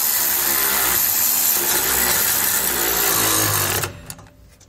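A power tool drives down bolts on Firestone Ride-Rite air helper springs on a 2016 Ford, a loud continuous whirring burst lasting nearly four seconds, then cutting off into quiet clicks.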